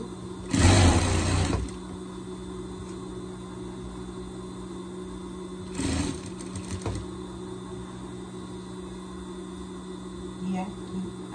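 A sewing machine stitches the underarm seam of ribbed knit on a pet garment, running in two short whirring bursts with a long pause between them over a steady background hum.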